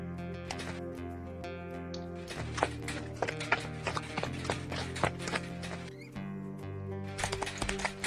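Horse hooves clip-clop in the video game Expeditions: Conquistador, a steady run of crisp, close hoofbeats over a low droning background, with a brief pause before the clopping resumes.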